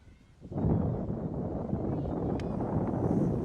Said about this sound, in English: Getting windy here.